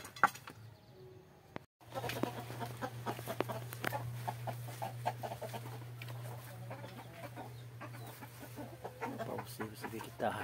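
A chicken clucks and squawks in scattered bursts while a six-banded armadillo drags it away, over a constant low hum with a brief quiet moment at the start.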